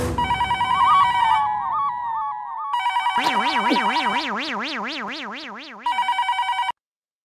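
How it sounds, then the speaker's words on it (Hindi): Telephone ringing on an outgoing call in an Indian sitcom household, a warbling electronic ring tone repeating in bursts with a brief pause, moderately loud and alone with no talk over it. "मैं चंपक चाचा को फोन लगाता हूँ ना,"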